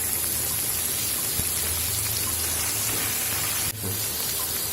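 Capsicum and spring onion sautéing in a pan for Chinese-style chicken Manchurian, a steady dense sizzle and hiss throughout, close and even, with a faint low hum beneath and no talking.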